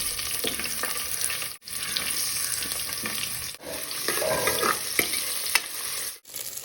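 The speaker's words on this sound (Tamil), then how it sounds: "வெங்காயம் பொன்னிறமாக வரும் வரைக்கும் கிளறி விடுங்க" Sliced onion, cinnamon, cloves, cardamom and green chilies fry in oil in a pressure cooker, a soft sizzle broken by stirring scrapes and a few short pauses.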